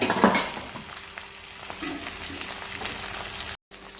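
Small onions frying in a pan of oil with ginger, garlic and green chili for a vazhuthininga (eggplant) curry, giving a steady soft sizzle with light stirring, a brief louder stir near the start and a short dropout near the end.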